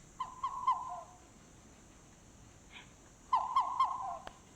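Two short bursts of low, repeated owl hoots, a second apart, played back clearly from a phone bird app against quiet background hiss.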